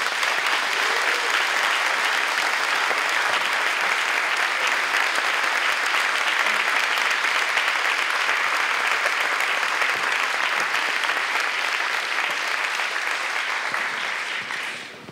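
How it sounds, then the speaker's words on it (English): Audience applause at an elementary school event, a steady dense wash of clapping that stays loud for about fifteen seconds before tapering off at the very end. "Let's give him another round of applause, please."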